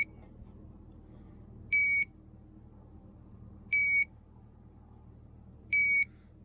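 A GZAIR SA103 travel carbon monoxide detector sounds its alarm: three loud, piercing two-tone beep bursts, each about a third of a second long, repeating roughly every two seconds over a faint low background hum.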